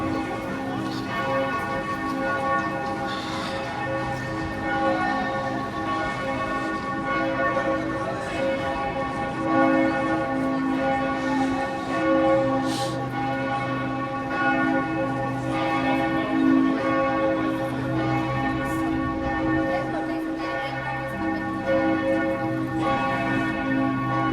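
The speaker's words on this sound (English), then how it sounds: "Now the bells are ringing." Church bells ring continuously in Vienna, Austria at Christmastime, a dense layered peal of overlapping tones that carries steadily throughout without pause.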